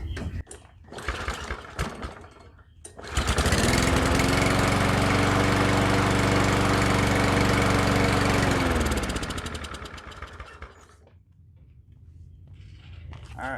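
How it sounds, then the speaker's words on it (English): A lawn mower engine fitted with the throttle post from another mower is pulled and fires up, running loudly and steadily for several seconds before winding down, with handling noises before and after. "just to test this engine to see if it will fire up"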